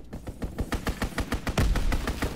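Rapid, rattling bursts of strafing-run gunfire in Call of Duty: WWII on the Aachen map, a dense string of sharp shots with a heavier thump toward the end, loud and continuous.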